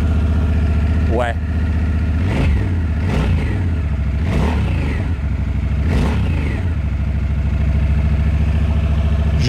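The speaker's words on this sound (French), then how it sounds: "J'aime beaucoup le son de cette moto-là." A Honda Africa Twin ES Sport motorcycle idles steadily and loud throughout, a dense low rumble with several short revs blipping over it at roughly even intervals.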